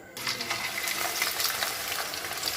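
Raw banana slices dropped into hot oil, starting with a sudden burst of steady, close sizzling and bubbling that continues throughout.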